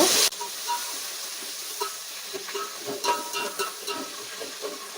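Chopped tomatoes added to a hot pan for chicken biryani, a soft steady sizzle with intermittent scraping and clinking from stirring, and a louder burst at the very start.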